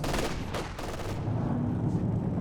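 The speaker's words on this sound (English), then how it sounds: "Double machine guns right next to each other" Two machine guns placed side by side in a World War II real-time strategy game, firing a few quick rattling bursts early on, then a steady rumble of distant battle noise.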